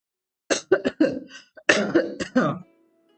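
A close series of harsh coughs in two clusters, several sharp bursts each, followed by quiet.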